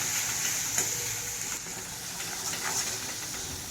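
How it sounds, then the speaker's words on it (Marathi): Crushed green chili thecha sautés in hot oil with a steady, close frying sizzle and hiss, plus a few brief stirring scrapes throughout. "आपण ठेचा छान परतून घेणार आहोत"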